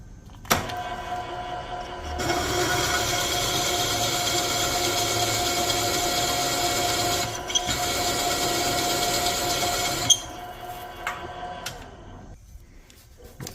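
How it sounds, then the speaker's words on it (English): A core drill whirs steadily into a Vortec cylinder head for crack repair for about eight seconds after a brief start-up, then spins down, leaving quieter mechanical noise and a few clicks. "I'm ready to drill. So I got a core drill, my keyless chuck"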